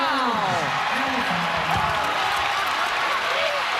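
Spectators at a women's college basketball game between UConn and Vermont in an NCAA first-round tournament applaud in a steady wash of crowd noise, with a commentator's voice talking over the top throughout.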